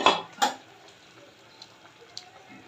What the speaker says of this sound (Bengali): এখন ভাজা মাছ আর কাঁচামরিচ দিয়ে দিলাম